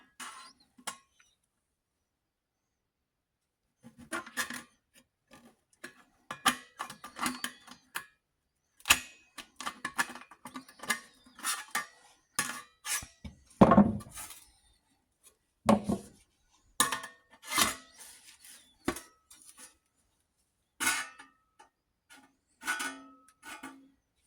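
Klein aviation snips cut through sheet metal in a series of sharp, crisp clicks and crunchy snips, arriving in irregular bursts with short pauses between cuts, close up and fairly quiet.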